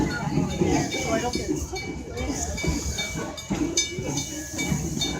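Riding the Greenfield Village steam train on opening day, the car carries a steady hiss and rumble of the moving train with faint whistle-like tones, while someone talks continuously over the noise.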